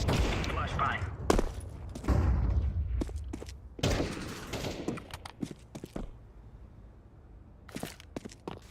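Counter-Strike 2 match with bursts of gunfire, several sharp volleys and thuds spread unevenly across the clip, loud at first then sparser, mixed with game effects and quiet voices in the background.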